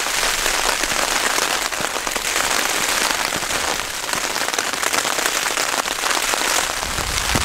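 Steady, dense rain patters on a tent while wild camping at Alport Castles in the Peak District, a constant close hiss with scattered sharper drop hits and no voices.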